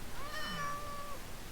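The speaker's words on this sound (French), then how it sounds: "Il y a des chats aussi." A Minecraft cat in a village gives a single clear, drawn-out meow, close and moderately loud over faint background hiss.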